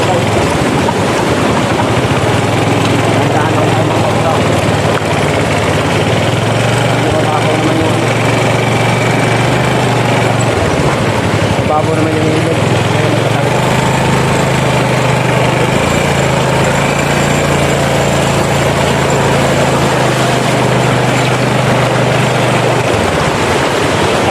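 A motorcycle engine runs steadily and loudly while crossing on the way to a lagoon, a continuous close drone with outdoor noise and no pauses.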